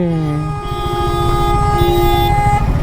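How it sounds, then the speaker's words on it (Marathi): A vehicle horn blares continuously on a highway, loud and close, holding a steady tone over engine rumble. "का हॉर्न धरून ठेवलाय?"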